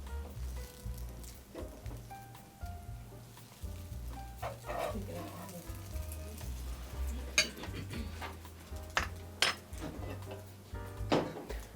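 Eggs cooking in a pan for an omelet, with a soft sizzle and frying hiss under the clatter and scrape of utensils against the pan, fairly quiet and irregular.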